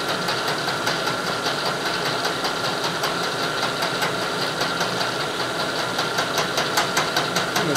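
A milling machine fly cutter squares saw-marked stock in a steady, loud, continuous grind with a fast rhythmic ticking from the rotating cutter, unbroken throughout.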